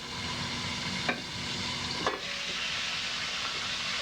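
Food browns in a pan with a steady, close sizzle and hiss that runs throughout, broken by two short scrape-like clatters of stirring.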